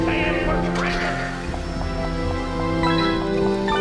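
Repeated cartoonish duck quacks from target birds in a pirate-themed shooting ride game, loud and close over steady ride music, with no talking.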